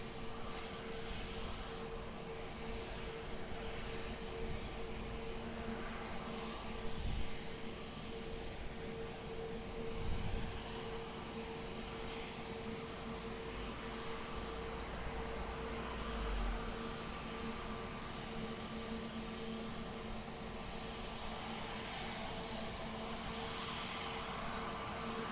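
An airliner on approach to runway 20 at Lisbon Airport produces a faint, distant, steady jet rumble that holds for the whole stretch, with low thumps now and then beneath it.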